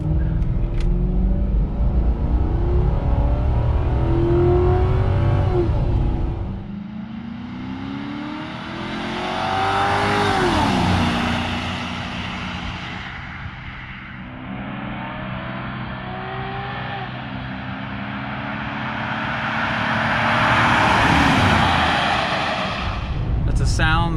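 A Ford Crown Victoria P71 with a large V8 accelerates at full throttle, its rumbling engine note rising through repeated surges and shifts, loud and sustained, with someone talking over parts of it.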